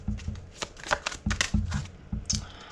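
Tarot cards riffled and flicked in quick bursts of papery slaps, some cards snapping as they are drawn, close and crisp with short pauses between runs, no talking.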